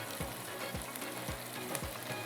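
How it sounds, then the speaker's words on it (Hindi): Boiled beef sizzles as it is fried in a pan for beef pulao, a soft, quiet hiss broken by regular scraping strokes of stirring roughly every half second. "तो ये जा रहा है गोश्त उबला हुआ"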